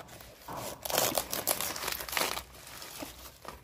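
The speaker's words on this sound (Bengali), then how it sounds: "আমি বাগান থেকে বাঁধাকপিটা কেটে নিচ্ছি।" A garden cabbage is cut free by hand, a close run of crisp crunching, tearing and crinkling of leaves in uneven bursts.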